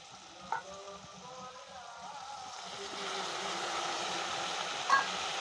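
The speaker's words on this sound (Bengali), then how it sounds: "এবার নাড়াচাড়া দিয়ে নেবো, ভালো করে কষিয়ে নেবো" Spices, green chilli and ginger sautéing in a pan make a steady sizzle that grows fuller partway through, with a couple of brief utensil knocks, heard close up and without speech.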